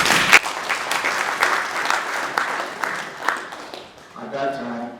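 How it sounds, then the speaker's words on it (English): Audience at a university groundbreaking ceremony gives a sustained round of applause, dense clapping that tapers off before a voice comes in at the end. "Can you give me a round of applause?"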